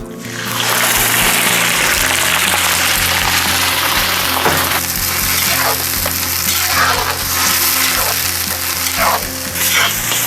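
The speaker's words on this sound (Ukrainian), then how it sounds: "спершу обсмажуємо цибулю" Onion sizzles loudly in sunflower oil in a kazan, a constant crackling fry with occasional stirring scrapes and bursts of hissing.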